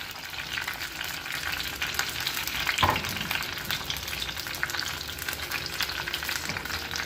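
Green chillies and tomato fry in a pan for a fish curry, giving a steady close sizzle with a brief clatter of stirring partway through and no talking.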